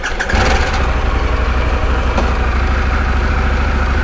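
A Harley-Davidson Pan America motorcycle fires up close by and pulls away, its engine settling into a loud, steady rumble that continues to the end, with no talking over it.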